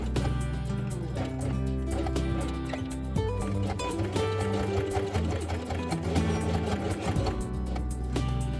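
A sewing machine stitching felt with white thread, running steadily with a rapid mechanical whirr and needle clatter, close and continuous, while musical tones play underneath.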